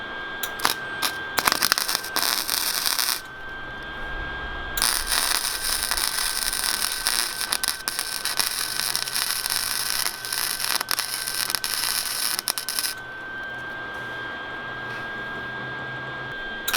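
Welding on a steel horse trailer being converted into a mobile bar crackles and sizzles in two long bursts, broken by a short pause, close and fairly loud, with no voices over it.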